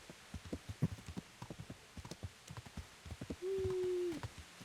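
Horse hooves clip-clop in a steady rhythm in the medieval video game Kingdom Come: Deliverance, soft and fairly quiet, with a brief low tonal sound near the end.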